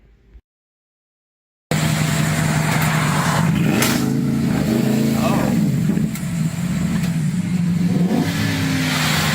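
A car engine idles close and loud after a short silence, rising in a few throaty revs and falling back between them, with voices talking over it.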